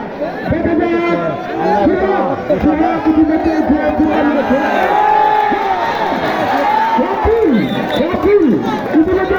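Spectators cheer loudly and continuously at a traditional kushti wrestling bout in Haluaghat, Mymensingh, Bangladesh. A dense roar of shouting, whooping and chattering voices fills the whole stretch.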